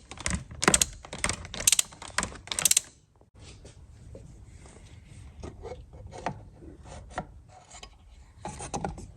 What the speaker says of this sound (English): 24mm socket to remove the filter cap